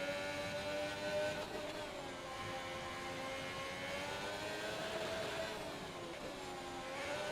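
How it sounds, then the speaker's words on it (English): Formula 1 racing car in a video game at Monaco, held at maximum revs in second gear, giving a steady, continuous high-pitched engine drone that stays loud throughout with slight pitch wavering. "He's sat in gear 2. Maximum revs"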